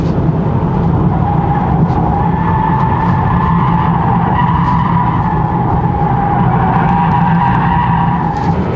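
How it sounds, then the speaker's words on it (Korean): Tesla Model 3 RWD Highland electric car accelerating, a steady loud drive with a faint rising motor whine over broad road and tire noise from inside the cabin. "표준에서 가속을 하면은 그러니까 회전수가 좀 높아지면은 그때는 전기 모터 소리가 조금 더 잘 들리긴 합니다."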